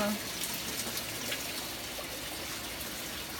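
A washing machine in a condo filling with water for a rinse: a steady, even hiss of running water close by, continuous and unchanging throughout.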